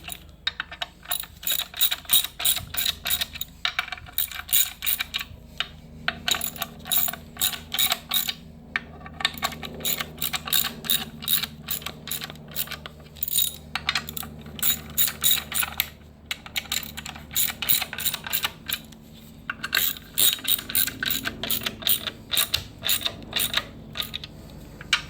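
A ratchet wrench tightens clutch bolts on a Kia Soul 1.6-liter six-speed manual, rapid close clicking in repeated bursts separated by brief pauses, with no talking.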